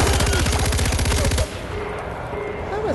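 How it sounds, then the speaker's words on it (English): Rapid automatic gunfire from the player's guns in Far Cry 4, a loud, close, evenly spaced burst lasting about a second and a half before cutting off into quieter background sound. "it's just my guns"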